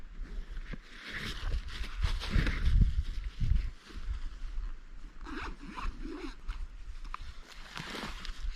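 A bag is unzipped and rummaged through in a search for a lost bike key, with a sharp zipper pull followed by rustling and scraping of contents, close and fairly loud, with no voices.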